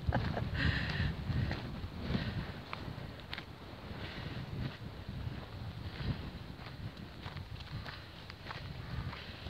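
Gusty wind rushes past on a roadside verge near Dowry Reservoir, a moderate, uneven buffeting with scattered soft taps and scuffs, with no talking.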